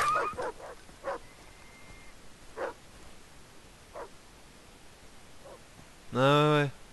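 A dog in the video game Far Cry 3 yips and whimpers in a few short bursts, then lets out one louder, longer bark or howl near the end, with quiet gaps between.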